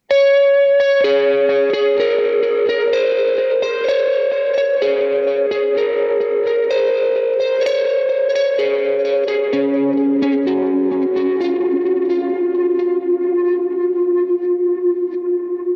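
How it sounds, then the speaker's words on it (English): An electric guitar plays a melodic line through an HX Stomp with a simple mono delay, each note followed by repeating echoes and a lingering trail, loud and continuous throughout. "Now we've got enough DSP to add in a simple mono delay, which I think I'm just going to go with the simple delay."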